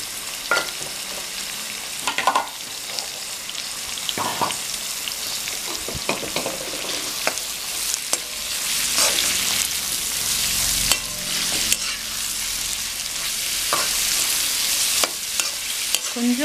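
Ingredients with slit green chillies sauté in oil for a South Indian mutton curry, a steady close sizzle broken by repeated stirring scrapes and clinks that grows louder midway and runs on without talk.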